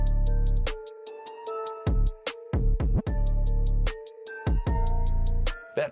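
A hip hop beat loop plays a melodic line over a booming, aggressive 808 bass pattern and punchy drum hits, loud and rhythmic with sharp stops between phrases.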